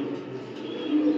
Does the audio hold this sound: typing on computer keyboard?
no